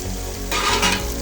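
Bottle gourd, brinjal and tomato pieces being stirred in a hot pan, a brief scrape and clatter over a steady sizzle of oil.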